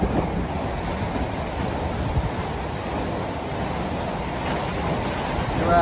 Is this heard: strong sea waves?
yes